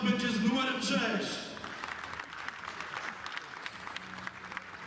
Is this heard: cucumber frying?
no